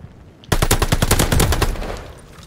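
Rapid automatic gunfire in Call of Duty: Vanguard during a ranked hardpoint match: a loud, dense burst of shots starts abruptly and rattles on steadily for about two seconds before tailing off.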